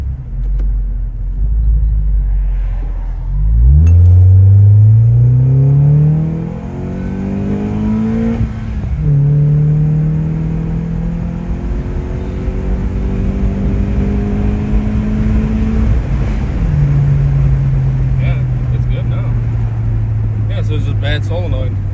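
A K20-powered Acura TSX revs up on a road test drive, rising through the gears in several long climbing pulls with shifts between them, a steady engine drone and road rumble underneath, heard from inside the cabin.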